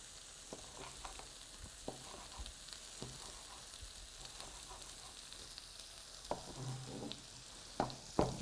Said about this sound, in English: turn off the meat. It's looking crispy and gorgeous